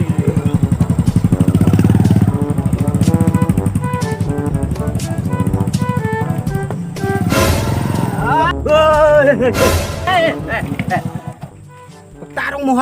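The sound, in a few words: motorcycle engine running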